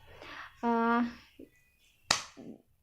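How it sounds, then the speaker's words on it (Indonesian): One loud, sharp hand clap cracks out near the end, delivered to test a newborn's Moro reflex, after brief quiet vocal sounds in an otherwise hushed room. "memberikan rangsangan seperti tepukan tangan dengan keras"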